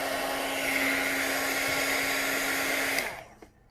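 A hair dryer blows steadily on glue stick sealant coating a trifold board, a loud, close, continuous whir with a steady hum. It shuts off near the end and winds down into quiet.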